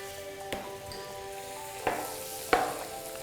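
Flour cooking in melted butter in a pan gives a soft, steady sizzle, with a few faint utensil clinks standing out above the hiss.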